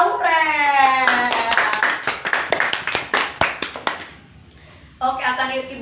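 A class of students gives a short round of applause for a classmate, a burst of dense hand claps fading into scattered claps, with a teacher's voice talking before and after.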